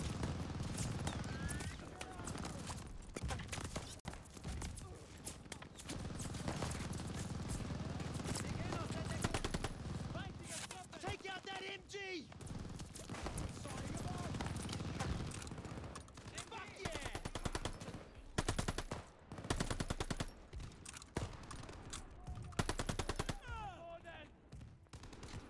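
Machine gun fire in the Call of Duty: Vanguard campaign, a dense, sustained stream of bursts and battlefield gunfire running the whole time, loud and close, with voices shouting over the chaos.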